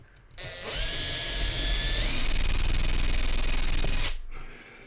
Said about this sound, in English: Shielded drilling.